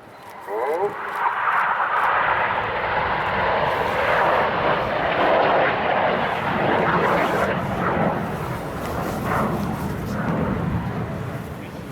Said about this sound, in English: As those aircraft swing out like a pendulum, they start a manoeuvre called the helix.